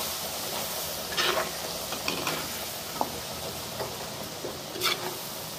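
Ginger garlic paste frying with curry leaves, a soft steady sizzle broken by a few brief stirring scrapes and pops, no voices.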